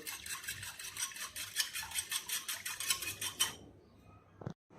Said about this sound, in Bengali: দুধগুলা ঢালার পর একটা হুইস দিয়ে ফেনা উঠিয়ে নিব